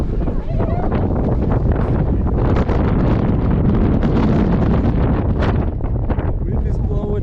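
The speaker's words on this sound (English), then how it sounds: "Wind is blowing." Wind gusts outdoors in Dublin, Ireland, buffeting a microphone with a loud, constant roar and rumble that never lets up.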